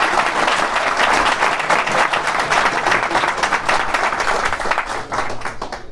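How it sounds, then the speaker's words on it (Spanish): Sustained audience applause for a guest speaker, dense and steady clapping from a sizable crowd for about six seconds, tapering slightly at the end. "Un aplauso para él, por favor."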